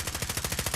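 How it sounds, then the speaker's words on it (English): Rapid automatic gunfire from the video game Modern Warfare Warzone, a steady rattling burst of evenly spaced shots running straight through, fairly loud with no talk over it. "there's more shooting"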